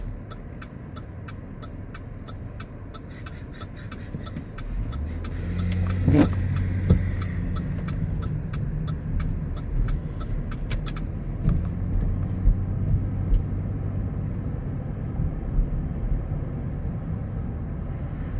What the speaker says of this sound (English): I'll wait for this car.